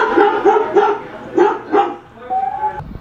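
A smart speaker plays a recorded dog barking, a rapid series of about six loud, close barks with short gaps, ending in a softer whine.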